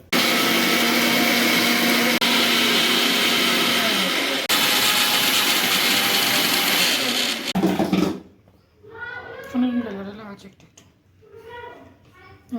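A kitchen grinder blending ginger with lemon juice and water into paste, a loud steady whirring motor for about eight seconds that cuts off, followed by people talking.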